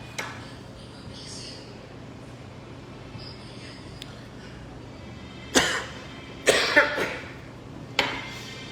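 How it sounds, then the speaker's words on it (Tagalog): A few short, sharp coughs break out in the second half, one after another, over a quiet room with faint background hum. "Inuubo na ako."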